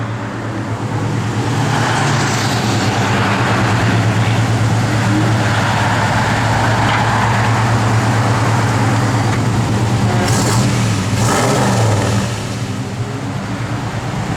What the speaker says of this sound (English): Truck sounds good.